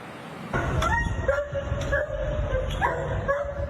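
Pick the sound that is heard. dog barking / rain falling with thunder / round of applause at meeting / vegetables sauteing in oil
dog barking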